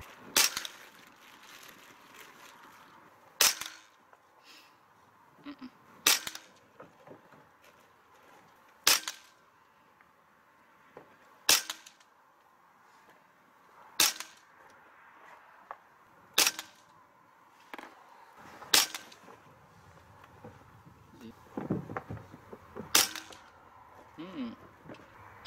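A Hatsan Bullmaster .25 PCP air rifle, charged to 250 bar, fires HN Barracuda 30.86 grain pellets, about nine sharp, close cracks spaced a few seconds apart over quiet background.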